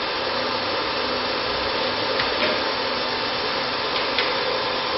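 An electric motor driven by a VFD inverter running fast gives a steady, dense whirring hum, loud and close, holding constant for the whole stretch with a few faint clicks and no talking.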